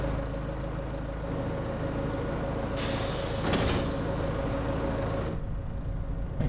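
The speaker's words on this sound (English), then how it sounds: "But reversing things with this tractor is a treat." A tractor engine drones steadily at close range while reversing, its low rumble joined midway by a brief hissing, rushing burst before it settles back to the even idle.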